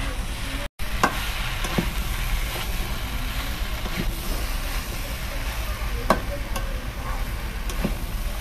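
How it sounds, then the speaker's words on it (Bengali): Boiled green jackfruit is stir-fried in spice masala in a pan, giving a steady, close sizzle with scraping stirs and occasional sharp clinks of the spatula. "এঁচড়টা দিয়ে এবার ভালোভাবে কষতে হবে।"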